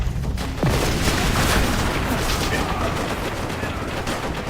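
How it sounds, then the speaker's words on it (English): Heavy machine gun fire rattles in a war video game, a dense, loud, continuous burst of rapid shots mixed with booming battle noise, sustained throughout without a break. "Machine gun!"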